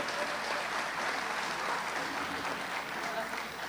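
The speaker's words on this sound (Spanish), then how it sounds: "Un aplauso para el doctor Serpa," An audience at a national assembly of municipal ombudsman offices applauds a doctor, steady dense clapping filling the room throughout, loud and continuous with no voices over it.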